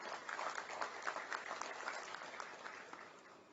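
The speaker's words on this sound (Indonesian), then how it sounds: "silakan tepuk tangan." Applause during a virtual graduation ceremony held by Indonesia's tourism ministry for tourism polytechnic graduates: an even wash of many hands clapping, steady and moderately loud throughout, with no voices on top.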